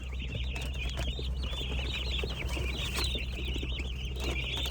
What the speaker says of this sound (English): Picked up the baby chicks.